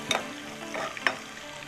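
Sliced shallots fry in hot oil in a pan as curry leaves are added, a steady close sizzle broken by a few sharp crackles and the scrape of stirring.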